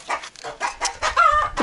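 A hen on a village farmyard clucks loudly in a rapid series of close, agitated calls, alone with no talk.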